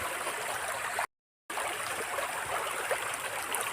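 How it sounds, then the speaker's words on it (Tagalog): A flowing river in Bataan rushes steadily as people cross it, giving a broad, constant wash of water close at hand, with a brief total dropout partway through and no voices. "Ilog naman tayo tatawid."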